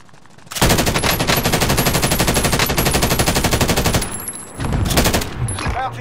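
Rapid automatic gunfire in a video game, a loud, close burst of evenly spaced shots lasting several seconds, then a short pause before more firing resumes.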